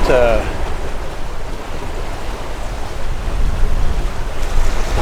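A catamaran under sail at about 6.5 knots on the open sea, heading down the coast: steady rushing waves and strong wind buffeting the microphone, loud and continuous.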